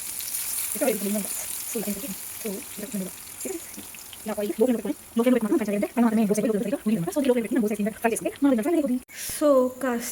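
Brinjal slices frying on a hot tawa, a steady soft sizzle running underneath while someone talks continuously over it.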